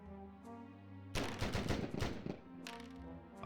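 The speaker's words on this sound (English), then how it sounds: "Pistol shots" Rapid pistol shots in a Warhammer fantasy video game battle, a loud dense burst of overlapping cracks lasting about a second amid steady game music, followed by a couple of fainter isolated reports.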